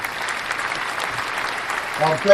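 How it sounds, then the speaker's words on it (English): Scattered clapping from a crowd continues steadily, with a voice briefly audible near the end. "That clapping is, I don't know if it's a delay or something, but it's interrupting the conversation."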